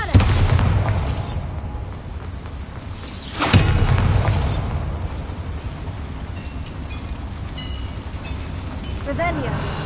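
A Bombarda exploding spell in Hogwarts Legacy bursts with a loud rumbling blast that fades away, followed by a second boom midway through, with a voice speaking briefly among the game sounds.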